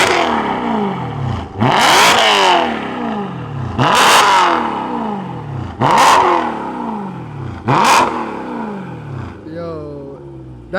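A BMW E92 M3 V8 engine revs sharply four times in a regular rhythm, each roar climbing and then falling back, loud and close.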